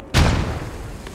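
A single mortar round fires in the Squad video game, a sharp, close boom followed by a rumbling tail that fades over about a second.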